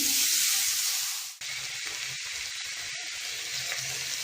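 Poha tips into a hot pan of frying onion for kanda poha, a loud sizzle and hiss that fades, cuts out briefly, then returns as a quieter steady frying with a few soft scrapes.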